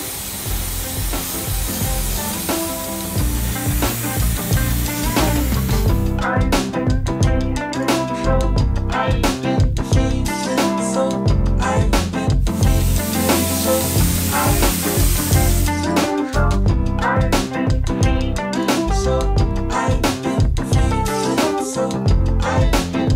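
A spray can sprays hair in long steady hissing bursts, mixed with broadband rattling and scraping, the hiss cutting in and out across the stretch, close and loud.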